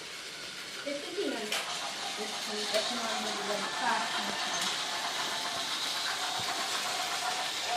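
Toy trains running on a blue TOMY plastic track layout, a continuous faint rattling mechanical hum throughout with small clicks, while people talk over it.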